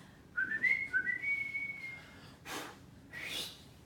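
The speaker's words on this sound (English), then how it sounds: "just whistle like this" Person whistling a rising, gliding tune near the microphone, a sustained bright note with small wavers, followed by a couple of short breathy bursts and another brief whistle.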